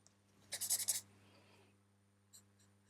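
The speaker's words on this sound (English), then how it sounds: "You can use your colorless blender." A colorless blender pencil scrubbing over toothy drawing paper in quick short strokes, a close rapid burst of soft scratching with a faint touch later, in a quiet room.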